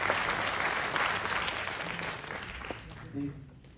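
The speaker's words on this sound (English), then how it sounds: "Let's give a big round of applause." Steady applause from a conference audience, a broad wash of clapping that gradually fades toward the end.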